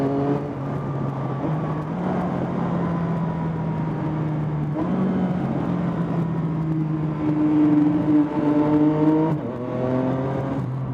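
A modified Yamaha MT-09 motorcycle engine pulls hard and climbs in pitch, with quick, crisp quickshifter gear changes that briefly dip the revs before it winds up again, steady and close.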